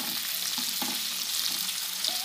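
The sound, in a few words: frying whole spices, onions, garlic, ginger and green chilies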